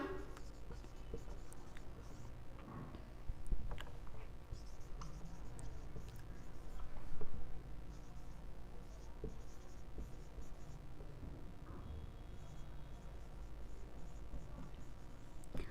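A marker or chalk scratches across a board in a classroom lesson, a faint, steady scraping of strokes for about sixteen seconds over low room hiss, with no clear talking.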